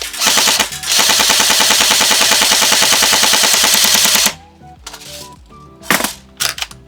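An airsoft gun fires on full auto in one loud, rapid sustained burst of closely spaced shots lasting about four seconds, then stops, leaving a few faint clicks and handling sounds.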